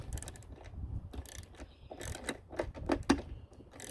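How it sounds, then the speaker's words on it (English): Ratchet tightening a bolt during a pillar light install on a vehicle, a run of close clicking ratchet strokes in an irregular rhythm with light mechanical rattles. "then we're going to use the ratchet on the front side, on the face of the bolt."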